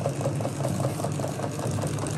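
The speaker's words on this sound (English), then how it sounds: "Nice little engine here." A small boiler-fed steam engine runs on a workbench, giving off a steady, rapid, rhythmic chuffing that stays close and continuous throughout, with no talking.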